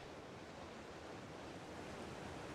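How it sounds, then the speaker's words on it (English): Steady rushing water of a waterfall near Viking Bay Cave in Ark Ragnarok, a broad, even roar with no breaks, filling the whole stretch at moderate level, no voices. "And then there's this waterfall here."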